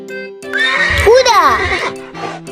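A horse neighs loudly and close, a rising and falling whinny lasting about a second, with a brief lower snort after it, set against a steady background hum.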